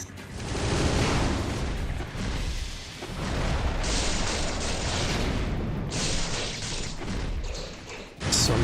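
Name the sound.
explosion after boss's sweep attack in Ninja Gaiden Sigma video game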